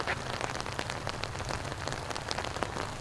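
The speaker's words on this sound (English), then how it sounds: "And the rain is really picking up now." Steady rain falls on an outdoor disc golf course during the final round of the 2016 St. Patrick's Classic, an even patter of drops with scattered sharper ticks and no voices.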